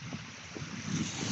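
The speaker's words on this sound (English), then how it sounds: "Constructive waves." Constructive waves wash onto the shore at Lulworth Cove, a steady broadband surf hiss mixed with wind rumble, with soft swells of breaking water repeating every half second or so.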